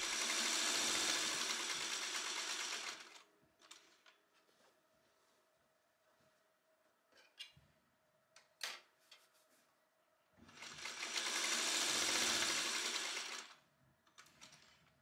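An electric sewing machine hems a skirt in two loud, continuous runs at close range. Between them are quiet handling clicks and rustles while the fabric is adjusted.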